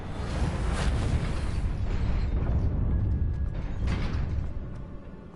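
The Reparo repair spell being cast in the game Hogwarts Legacy, a dense magical rumble with creaks and bursts that swells for several seconds and then fades out.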